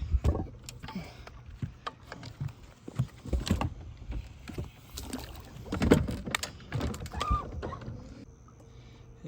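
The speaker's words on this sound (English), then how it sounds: "Let me get the trolling motor down." A trolling motor is lowered on a fishing boat while jug fishing, heard as a series of close, irregular hollow knocks, clunks and rattles against the hull, with brief water sloshes between them.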